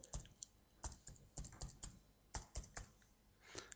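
A computer keyboard is tapped in short irregular bursts of crisp, close clicks while a password is entered, quiet and alone with no voices.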